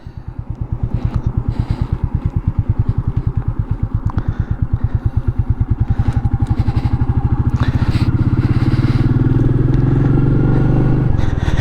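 A Royal Enfield Meteor 350 motorcycle rides along, its single-cylinder engine thumping in a steady, close, loud rhythm that quickens and smooths as it accelerates.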